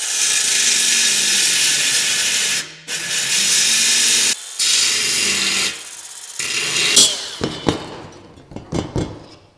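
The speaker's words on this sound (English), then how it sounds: "I'm gonna use this little belt sander right here" A small belt sander grinds off tack welds on a steel grill mesh, a loud harsh whine in sustained bursts with brief pauses, ending in scattered clanks and scraping as the tool winds down.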